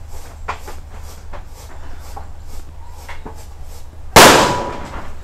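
Firecrackers in a wok: several faint crackling pops and a steady low hum, then a loud sharp bang near the end with a metallic ringing decay.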